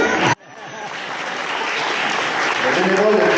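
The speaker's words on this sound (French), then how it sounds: "Une bonne main d'applaudissement pour Nicole!" Audience at a volunteers' awards evening claps loudly, the applause cut briefly after a moment of speech and then swelling into a steady, dense ovation from a crowded room.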